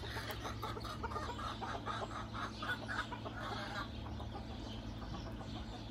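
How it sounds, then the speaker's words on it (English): Chickens cluck and a rooster crows amid a busy background of wild birdsong, outdoors at moderate distance. "this is just 25 minutes of me listening to roosters crow and listening to chickens."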